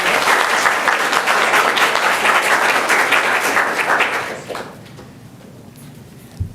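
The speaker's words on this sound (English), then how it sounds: "Clap for that." Loud applause from a crowd at a school board business meeting, steady and dense for about four seconds, then fading abruptly to a quiet room with a last few scattered claps.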